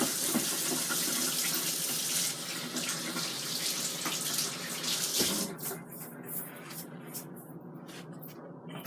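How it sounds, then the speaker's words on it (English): Hands being washed under a running kitchen tap, a steady gushing stream of water that carries on for several seconds, then turns splashier and more broken as the hands move through it. "Let me wash my hands again."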